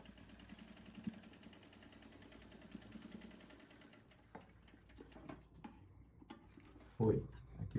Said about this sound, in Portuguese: E agora aqui eu costuro de novo.